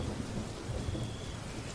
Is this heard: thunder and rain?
yes